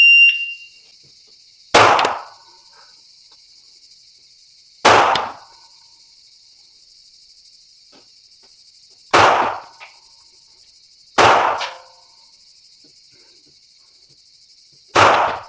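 Five sharp handgun shots ring out one at a time, spaced a few seconds apart, during a timed five-cartridge pistol shooting test, each report loud and close with a short decaying tail over a steady high hum.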